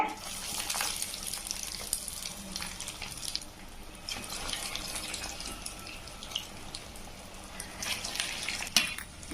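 Potato cheese balls deep-fry in hot oil with a dense, continuous bubbling hiss, like rushing water, that holds steady and swells a little toward the end.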